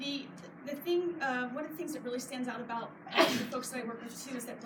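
A single sharp sneeze bursts out loud and close partway through, cutting into ongoing speech from a person talking before and after it.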